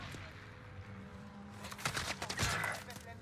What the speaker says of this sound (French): À droite, ça me tire dessus.